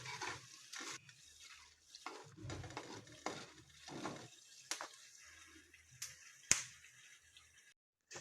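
Cloves and green and black cardamom dry roasting in a pan over low heat, heard as light scraping stirs and rattling whole spices against the metal, quiet and close with a few sharp clinks.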